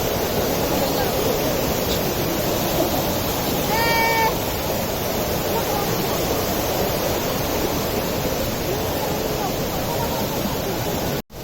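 Thottikallu waterfall pouring steadily, a broad, loud rushing roar of falling water that fills the whole scene without letup, with a brief high animal-like cry breaking through faintly near the middle.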